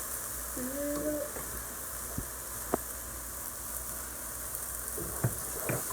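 Chorizo sizzling in a pan on an iron shelf grill, a steady soft crackle with occasional scrape-like ticks from stirring, faint tonal sounds drifting over the top.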